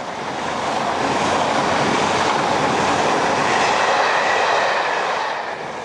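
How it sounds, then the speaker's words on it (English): A ScotRail Sleeper train hauled by an EWS Class 90 electric locomotive rolls past with a steady, loud rumble and faint rail clatter that holds for several seconds and eases slightly at the end. "The 3 portions of the ScotRail Sleeper combined when they reached Glasgow and worked south to London Euston behind a dedicated fleet of 5 EWS Class 90s."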